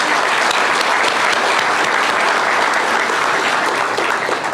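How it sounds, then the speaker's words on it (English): An audience at a business event in Kiambu, Kenya, bursts into a huge round of applause, with dense, sustained clapping from many hands that stays loud and steady throughout. "you deserve a huge round of applause"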